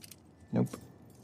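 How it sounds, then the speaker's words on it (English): Keys jangle once in a brief, close metallic burst as a set is tried in a lock in the video game The Last of Us Part II, with a fainter clink just after against a quiet background. "Wanna try those keys?"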